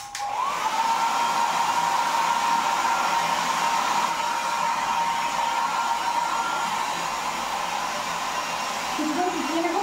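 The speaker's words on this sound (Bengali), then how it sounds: "ড্রায়ার দিয়ে শুকিয়ে নেব।" A hair dryer blows hot air over a DIY hoodie with a loud, steady whir and a high whine. The motor starts at the opening and runs without a break, with brief faint voices near the end.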